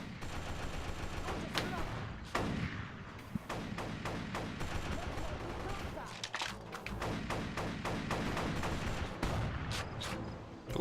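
Rapid bursts of gunfire from a shooter video game, a steady clatter of loud shots with thumps and impacts running through the whole stretch, with a brief pause near the middle.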